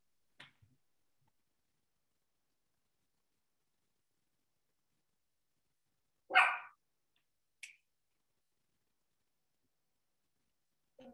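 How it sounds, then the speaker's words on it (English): A small dog gives a few sharp, isolated barks indoors, separated by long silences, one louder yap followed by a shorter one and a faint final bark. "Sorry about the little barks. That's my little dog."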